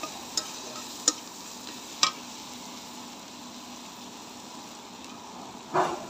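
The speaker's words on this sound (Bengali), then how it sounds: "তেলের ভিতরে ভালো করে কষিয়ে নিব।" Ground chili and coriander powder fry in oil with a soft background sizzle, punctuated by a few sharp spoon taps and a scraping stir near the end; no speech.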